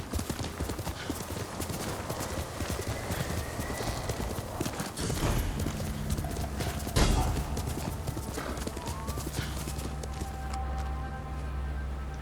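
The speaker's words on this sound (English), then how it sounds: "You can just hop onto your horse, barely breaking stride." Horse clip-clop hooves pounding at a gallop in the Ghost of Tsushima video game, loud and continuous, with a whinny and game ambience mixed in.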